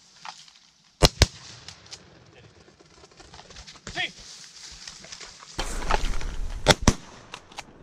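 Shotgun blasts during a duck hunt, two sharp close shots in quick succession and then a second pair later, with hunters talking and calling out between them outdoors.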